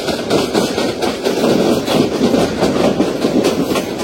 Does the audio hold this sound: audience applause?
no